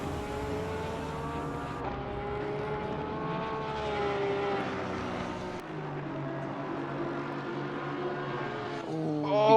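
Race cars at Laguna Seca in a racing video game, including a Nissan and a BMW, with several engines droning and whining together in a loud continuous roar while pitches rise and fall through gear changes.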